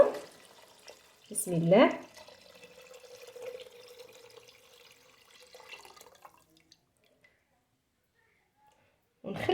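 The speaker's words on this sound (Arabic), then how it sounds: "بعد ما تشحرت ليا غنضيف ليها الماء ديال القمرون" Shrimp stock is poured from up close into a pot for fish soup, a steady liquid stream of a few seconds that then trails off into quiet, with a brief spoken phrase at the start.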